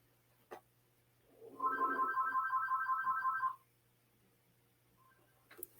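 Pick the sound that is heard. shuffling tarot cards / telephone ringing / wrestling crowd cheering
telephone ringing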